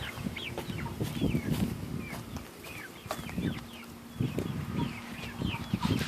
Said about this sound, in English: Lavender chicken.